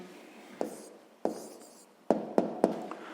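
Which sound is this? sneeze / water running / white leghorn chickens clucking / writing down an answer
writing down an answer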